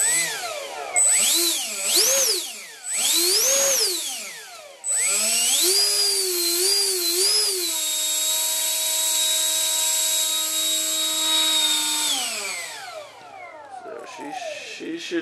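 A 70mm electric ducted fan in a foam MiG jet model revs up and down in several sharp whining bursts, then holds a steady high-pitched roar before spooling down, loud and close.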